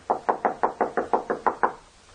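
Another round of nine steady knocks on a door in a horror audio drama, evenly paced, close and loud, followed by a brief quiet with no talking.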